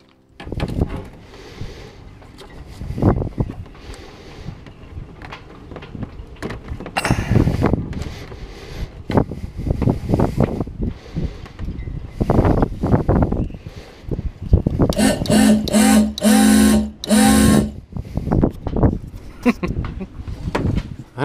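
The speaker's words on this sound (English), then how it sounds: "And then I came back to the boat to test the horn." A homemade $5 PVC air horn with a pipe pushed against a diaphragm, tested on a boat: a short, steady, fairly weak honk near the end, following wind buffeting and handling noise.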